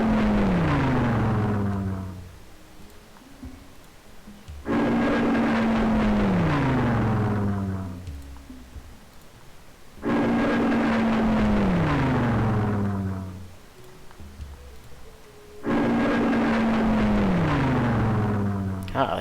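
Aircraft engines from a World War II bombing run in Civilization III, in four loud swells, each a droning roar that falls in pitch as it passes, with quieter gaps between.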